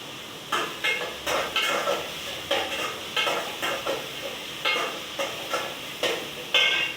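Onions for a fish curry sauté in a pan under a steady sizzle, while a utensil stirs and scrapes against the metal in a quick, regular rhythm of about a dozen strokes, with no talking.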